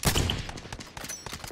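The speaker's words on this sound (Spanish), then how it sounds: "Disparo." Gunfire in the shooter game Call of Duty: Modern Warfare Warzone: a loud, sharp opening shot followed by a quick run of rapid, fainter cracks, with no talking over it.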